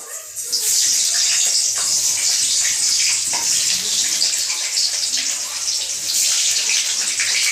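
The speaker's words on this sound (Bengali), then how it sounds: "আমার তেলটা গরম হয়ে গেছে, আমি এবার আলুগুলো একটা একটা করে দিয়ে ভেজে নেবো।" New potatoes fry in hot oil, a loud, close, continuous bright hiss of bubbling oil that holds steady throughout.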